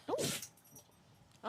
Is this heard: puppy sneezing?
yes